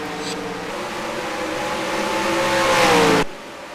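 Race cars roar as they accelerate at the green flag at the Milwaukee Mile, a loud steady engine drone that swells over about three seconds and then cuts off abruptly.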